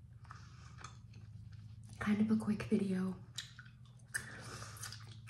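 Close, wet gum chewing with soft squishing and clicking, heard between and under soft-spoken talk.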